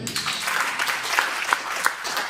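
A church congregation claps through a service, the applause steady and moderately loud, with a few sharper claps standing out.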